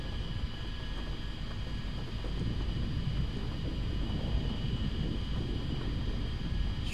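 An A-10C jet taxiing in the DCS World flight simulator gives a steady, continuous low engine rumble with a faint high whine above it, unbroken throughout.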